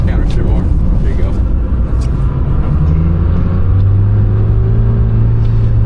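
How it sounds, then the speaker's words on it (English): Lamborghini Temerario's high-revving V8 hybrid engine accelerates in a steady, close rumble whose pitch climbs toward the end, heard from inside the car. "Both that high revving V8 and the electric hybrid powertrain make for a very linear power band."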